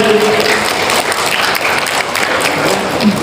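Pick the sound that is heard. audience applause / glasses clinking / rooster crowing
audience applause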